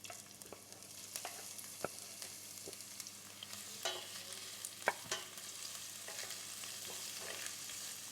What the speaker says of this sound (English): going to saute some onions and some seasoning peppers